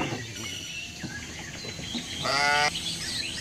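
A curly-coated sheep bleats once, a short harmonic cry rising above a steady background of animal noise and chatter, with other farm animals such as goats nearby.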